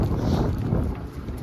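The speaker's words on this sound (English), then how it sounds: "So yeah, it's pretty windy," Steady strong wind buffeting the microphone with a low, continuous roar, as if out on an open sailboat.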